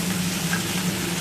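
Okra frying with chopped onion and five-spice tempering in mustard oil, a steady, dense sizzle with a constant low hum underneath, with no talk.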